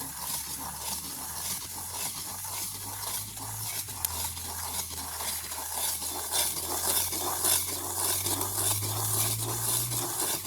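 Rava vada frying in oil in a village kitchen, a continuous close hiss and sizzle with faint scraping of a utensil, and a low hum running underneath throughout.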